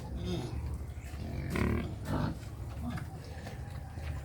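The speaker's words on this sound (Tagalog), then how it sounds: "Yan, native native pig mini pig farm" Native mini pigs grunt and squeal in a pen on a pig farm, a few close, rough calls over a steady low background with a voice briefly audible.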